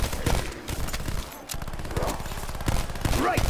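Rapid gunfire from Call of Duty: Black Ops 4 zombies mode, a dense rattling fusillade of repeated shots running throughout, with brief game voice snippets mixed in.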